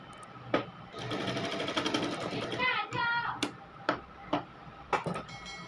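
A sewing machine stitches a sleeve cuff in one quick, close whirring burst, followed by scattered mechanical ticks and clicks as the fabric is handled, with no talking.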